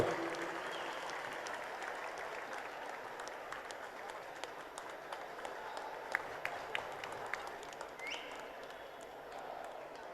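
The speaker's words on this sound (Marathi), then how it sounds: "खरोखर जोरदार टाळ्या वाजवायला पाहिजेत." A crowd applauds at a Dahi Handi premier league final, a thin, distant patter of clapping spread through the whole stretch with a few sharper claps standing out.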